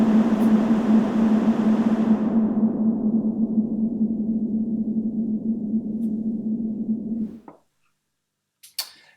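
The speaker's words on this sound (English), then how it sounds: "Without damping, you can hear the high frequencies just keep on rolling." A reverb effect set with no damping, a sustained tone and its bright high end ringing on at steady loudness for several seconds, then cutting off abruptly, followed by a couple of faint clicks.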